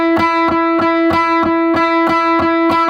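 Electric guitar repeatedly picks a sustained, bright chord in an even triplet pulse, nine crisp attacks ringing over steady tones, up close and alone.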